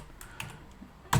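Short bursts of keystrokes on a computer keyboard, a few scattered taps followed by a louder close clack at the end, with no talking.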